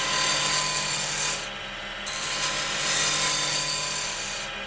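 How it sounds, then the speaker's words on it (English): A carbide skew tool cuts a cocobolo wood pen blank spinning on a lathe, a steady scraping hiss over a constant high motor whine, with a short softer gap midway before cutting resumes. "Though you can turn it up and do some skew cutting with it like this."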